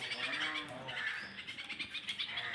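Pigeons squawk and call close by in short, overlapping bursts around their coops, a rough chorus of throaty cries with no talking.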